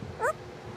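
A caique parrot imitates a dog, giving one short, high yelping bark in the middle of an otherwise quiet moment, fairly close.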